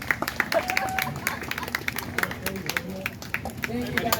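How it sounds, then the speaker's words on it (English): Scattered audience clapping continues with crowd murmur and voices talking over it, the claps uneven and moderately close. "you get a round of applause for yourself for sitting through that whole thing?"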